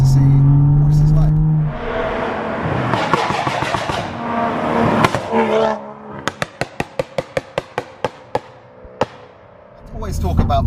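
A BMW M135i revs hard, then its exhaust fires a rapid string of about a dozen sharp pops and bangs, close and loud, with a voice speaking before the revving.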